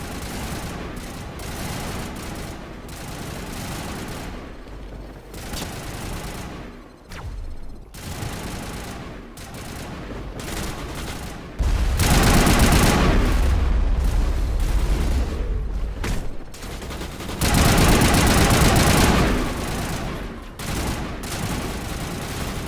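Sustained gunfire and explosive blasts in a Mass Effect battle on Virmire against Geth, with rapid overlapping shots rolling throughout and two especially loud, heavy bursts of booming fire midway.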